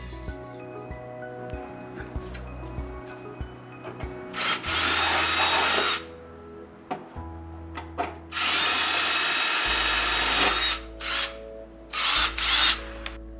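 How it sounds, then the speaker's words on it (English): A power drill bores bolt holes on a car project, running in several long loud bursts with pauses between them and some handling noise in the gaps. "it's time to start drilling some holes"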